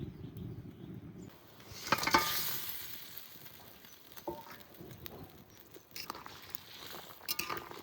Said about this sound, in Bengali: এবার ভেজে রাখা মাছ দিয়ে দেবো